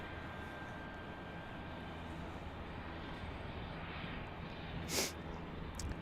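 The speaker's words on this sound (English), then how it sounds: "Here comes Frontier Airlines on our Airbus A320." A Frontier Airlines Airbus A320 at Salt Lake City airport gives off a low, steady engine rumble. The roar is broad and distant, with a short sharp noise near the five-second mark.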